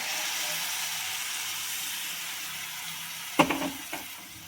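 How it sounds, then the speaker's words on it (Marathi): Milk poured into carrot halwa cooking in a pan gives a steady, close sizzle and frying hiss, with a few sharp clatters near the end. "आता दूध टाकून देते"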